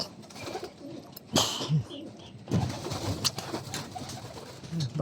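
Pigeons coo repeatedly from a loft of fancier racing birds, soft throaty calls recurring over a busy background with a few louder bursts of wing or movement noise.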